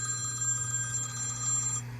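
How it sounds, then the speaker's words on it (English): A telephone rings with an incoming call during a coin pusher arcade session, a steady electronic ringing tone holding for about two seconds over a low background hum before it cuts off. "We got another phone call here, folks."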